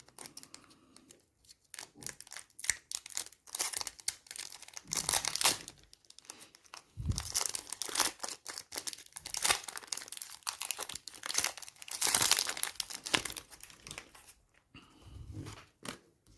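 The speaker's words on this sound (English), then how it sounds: "I'll get on with opening my next pack." A foil booster pack wrapper for a trading card game is torn open and handled up close, with bursts of crinkling, crackling and tearing coming in uneven waves and short quiet gaps.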